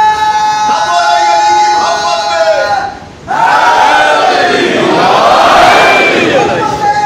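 A Shia majlis congregation in Jaffria colony at a Muharram gathering chants slogans in unison, loud and close: a sustained group call, a brief pause near three seconds, then a second powerful massed chant rising and holding to the end.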